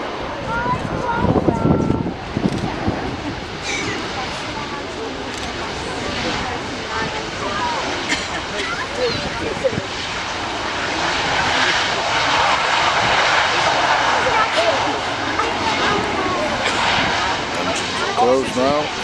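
A Qatar Airways Boeing 787 Dreamliner from Doha lands at Manchester Airport, its engines holding a loud, steady roar with wind buffeting the microphone. The sound swells louder toward the end.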